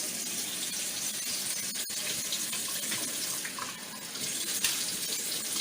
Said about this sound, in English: And I'm going to add just a little bit of water.